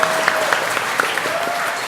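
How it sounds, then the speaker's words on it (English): An audience at a school board meeting applauds, a dense, even patter of many hands clapping together at moderate volume, steady from start to finish. "So let's give her a round of applause."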